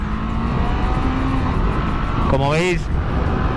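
A 2019 Honda CBR500 motorcycle engine holds a loud, steady drone and then climbs in a rising rev toward its limiter before settling back, with someone talking over it.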